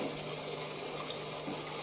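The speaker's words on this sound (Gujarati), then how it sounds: "હવે આપણે તે જારમાં થોડુંક પાણી લઈ" Water pours from a tap into a mixer jar while paneer curry gravy is being made, a steady close rushing fill that holds evenly throughout with no talk.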